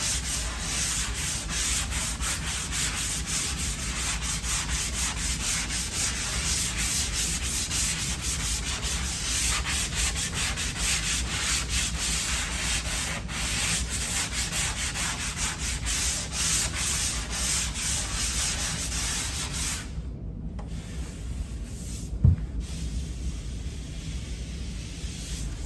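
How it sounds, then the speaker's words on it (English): Hand sanding of a dried drywall patch compound: a steady, continuous scratchy rub running for over twenty seconds at even close loudness, with a brief pause near the end and no voices. "So I'm going to sand it just a little bit."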